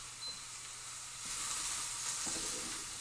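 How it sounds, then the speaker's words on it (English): Spaghetti bolognese ingredients fry in a pan with a steady hiss and sizzle, a soft clatter of stirring partway through, heard fairly close and without talk. "These are just frying up nicely."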